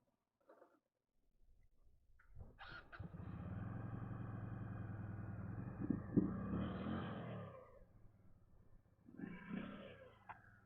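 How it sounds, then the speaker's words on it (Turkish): A Yuki Funrider motorcycle engine cranks and catches, then runs at a low rumbling idle for several seconds before fading, with a short revving burst near the end; fairly faint and close. "Motorumuzu çalıştıralım."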